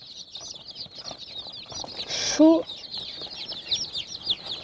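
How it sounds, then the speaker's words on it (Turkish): Soft, high peeping chirps of a sultan chicken chick run steadily throughout, close by, with a brief burst of louder noise and a short vocal sound in the middle. "Bu sultan civcivi."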